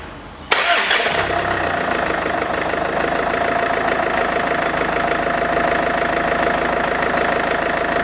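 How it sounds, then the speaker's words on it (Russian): A Range Rover Evoque 2.2 diesel engine, just rebuilt after a timing drive replacement, cranks briefly and catches, then settles into a loud, steady close-up idle with a ticking, knocking clatter that lasts to the end. "Ставлю клемму и запускаю"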